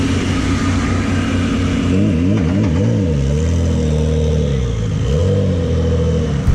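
A loud race car engine idles roughly and revs in wavering bursts as the car reverses and maneuvers slowly nearby in the paddock at the 12 Hours of Sebring, the pitch climbing and dipping.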